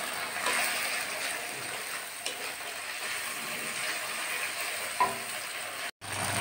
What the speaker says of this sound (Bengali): বন্ধুরা দেখো কষানো প্রায় হয়ে এসেছে, মশলাটা তেল ছেড়ে দিয়েছে মশলা থেকে